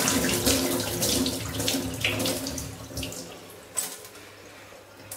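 Pearl millet grains are swished and stirred by hand in a bowl of water, giving a continuous sloshing, splashing wash with small bumps, fairly close and without speech.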